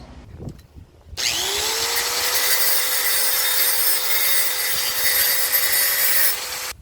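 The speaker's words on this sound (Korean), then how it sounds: "일단은 여기 그라인더를 좀 갈았어요" An angle grinder starts after a brief pause and grinds metal steadily for several seconds, a loud, harsh, high-pitched whine close by.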